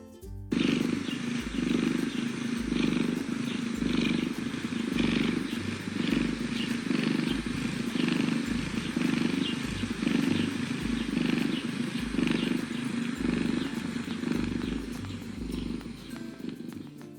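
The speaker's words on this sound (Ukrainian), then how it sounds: "Послухайте її солодке мурчання." A steady, rhythmic cat purr, close and continuous, rising and falling with each breath throughout.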